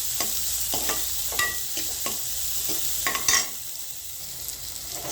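Onions sautéing in a pan for a kappai keerai (spinach) stir-fry, a steady hiss of frying broken by several sharp scrapes and clacks of a spatula stirring, close and fairly loud with no talking.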